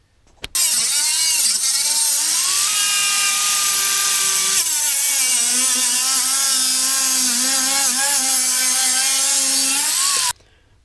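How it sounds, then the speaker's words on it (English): A piece of sheet aluminium is cut to shape for a Ford Fiesta MK6 centre console gauge holder. A loud, close, continuous high-pitched power-tool whine runs for about ten seconds, shifting pitch slightly, and then stops abruptly. "I've got the 14 by 20 shaped up on the piece of aluminium, and now I'm just going to cut it out"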